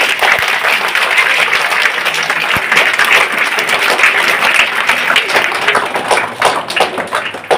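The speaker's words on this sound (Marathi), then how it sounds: "जोरदार टाळ्या झाल्या पाहिजेत" Loud, sustained applause from a crowd at a village event honoring guests, dense clapping continuing steadily throughout and thinning slightly near the end.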